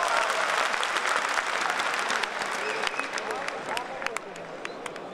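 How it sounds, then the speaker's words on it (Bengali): Convocation audience at a university ceremony applauding, a dense sustained wash of clapping that fades slightly toward the end, with a few sharper individual claps standing out. "আমি আরেকটু জোরে করতালি প্রত্যাশা করেছি।"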